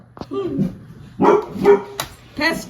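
A pet dog barks and yips in short, sharp bursts in a home kitchen, with several loud barks spread across a few seconds and voices mixed in between.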